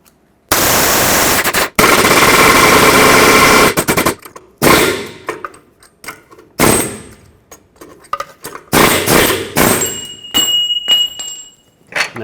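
Hammer blows on a punch driving control arm bolts out of a 2009-2014 Ford F-150 suspension: loud sharp metallic strikes, first a long rapid barrage, then separate bursts and ringing clanks spaced through the rest.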